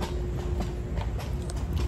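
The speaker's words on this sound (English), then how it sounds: "So we did end up taking a horse and carriage." A horse pulling a purple carriage around Central Park in New York City clip-clops steadily, its hooves striking close by in an even walking rhythm over a low rumble of street noise.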